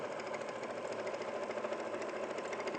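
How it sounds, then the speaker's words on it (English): A sewing machine runs steadily, stitching straight across the top of a Christmas craft piece along a seam, its fast mechanical whir holding at a constant level throughout with no talking. "you're going to just stitch straight across the top there"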